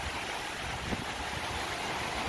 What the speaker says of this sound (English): as you can see right next to our campsite, running down the side of it,